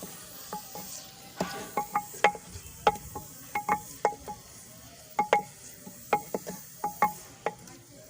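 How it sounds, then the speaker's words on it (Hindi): Onions cook in hot ghee for a beef pulao, heard as a faint sizzle under a run of light, regular clinks and taps from stirring, close and quiet, no talk. "अब इसमें प्याज डाल लेंगे।"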